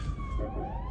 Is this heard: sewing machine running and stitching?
no